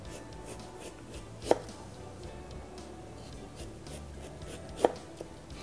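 A sharp knife slices lengthwise down through a carrot onto a cutting board, two crisp, distinct thuds a few seconds apart over a quiet kitchen background.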